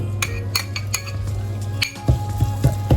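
Pounded lemongrass curry paste stir-fried in a pan with pork bones: a utensil clinks and scrapes against the pan in a steady rhythm, over a low constant hum and faint background sizzle.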